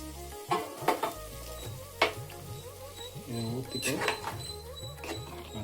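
Stirring ghee into pongal in a pan with scraping and soft clinks of a spoon, a light sizzle underneath, close by.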